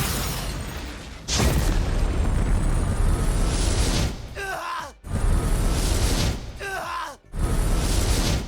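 A Megidola spell from Persona 3 Reload bursts in two loud, sustained roaring blasts, each swelling for several seconds with descending whooshing tones before cutting off abruptly, the second following shortly after the first.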